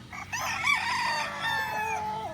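A gamefowl stag rooster, a Kelso-type bird at a gamefarm in Indang, Cavite, crows once in a full, clear cock-a-doodle-doo with a rising and falling call, close and loud against faint farm background.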